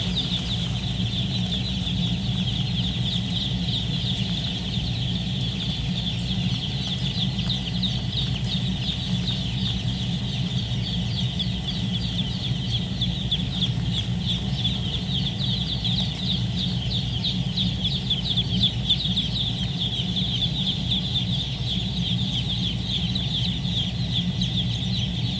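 Broiler meat chickens on a farm under heaters, a dense continuous chorus of clucking and cheeping from many birds, steady and even throughout, with no talking.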